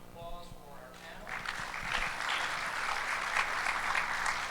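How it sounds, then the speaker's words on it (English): Audience applause for a panel at a conference workshop, steady and fairly distant clapping that builds after a few spoken words and continues to the end. "One more round of applause for our panel."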